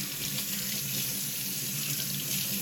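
Steady water runs from a kitchen faucet over a salmon fillet being rinsed, a constant loud splashing hiss with no pauses or speech.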